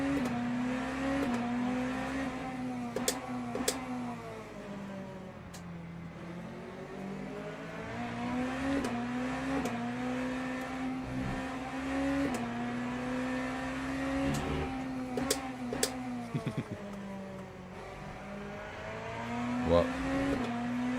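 Lamborghini race car on cold tyres in Le Mans Ultimate at Interlagos, its engine droning steadily with rising and falling pitch through shifts, a continuous close mechanical whine with a few sharp clicks.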